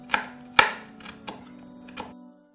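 A knife chops onions, garlic and ginger on a cutting board, giving five distinct sharp knocks in an irregular rhythm, close and fairly loud, with no talking.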